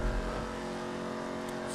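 The Vapid Dominator, a muscle car modelled on the Ford Mustang in GTA 5, gives a short, steady engine drone under acceleration, while a voice talks over it throughout.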